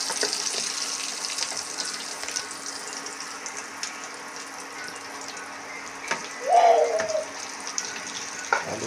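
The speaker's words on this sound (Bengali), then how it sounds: "তারপরে আলুটা ভাজছে," Potatoes fry in a pan for an egg curry, giving a steady close broadband sizzling hiss with a brief louder clatter of utensil or movement near the end.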